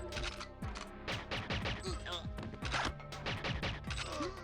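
Rapid gunfire bursts in the GoldenEye 007 video game, loud, dense shots with crashing hits playing steadily throughout, mixed with game effects.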